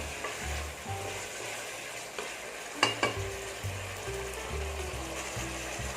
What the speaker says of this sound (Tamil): எண்ணெயில் கொஞ்சம் நேரம் இந்த காய்கறி வந்து வதங்குச்சுனாக்கா நல்லா டேஸ்ட்டு கொடுக்கும்